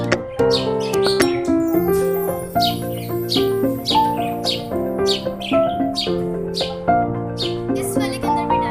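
Pet Australian parrots chirping and squawking in a rapid, overlapping chorus, loud and near, with shrill calls repeating throughout.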